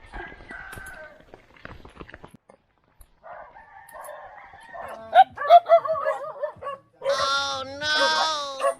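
Dogs barking in a residential area along a path down to a waterfall, a scatter of near and far barks and yelps mixed with crowing fowl and other animal calls, with a louder burst of barking at the end.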